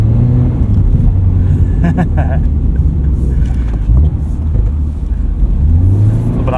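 Lifted 2022 Subaru BRZ on Falken Winterpeak winter tyres accelerating on snow, a loud, close engine drone rising in pitch as it pulls, under a driver talking.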